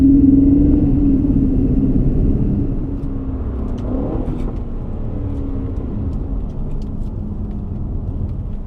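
Aston Martin DB11 V8 driving on the road, a loud low engine rumble and tyre roar that eases slightly after a few seconds and settles into a steady cruising drone, no talking.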